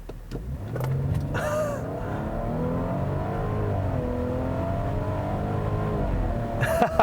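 A 2017 Audi Q7 3.0T seven-seat SUV accelerates hard, its engine note climbing steadily and loud for several seconds with a gear change partway through, heard from inside the car and with no talking.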